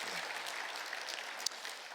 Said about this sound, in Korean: 우리 성가대원들 우리 한번 감사와 격려 박수 저희가 하는 시간을 갖도록